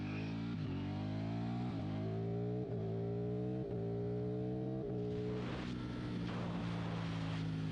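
A powerful motorcycle accelerating on an open stretch of road during break-in below 8,000 RPM, its engine pitch climbing through several gears with short dips at each shift, loud and close.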